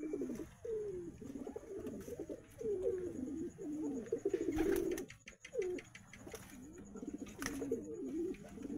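Several high-flying pigeons coo near at hand in a continuous sequence of low, wavering, throaty calls, with occasional sharp knocks and flutters in between and no voices.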